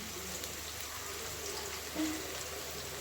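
Onions sautéing in a pan over medium heat, a steady soft sizzle and crackle that holds evenly throughout, close and moderately quiet, with no talk over it.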